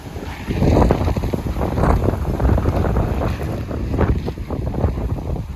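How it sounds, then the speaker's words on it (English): Strong outdoor wind sweeps through a tomato garden as a continuous loud rumbling roar buffeting the microphone, with gusts swelling and easing throughout and no one speaking. "Look at that wind."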